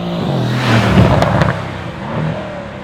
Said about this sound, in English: if you put the windows down, you can hear lots of the exhaust and engine noise.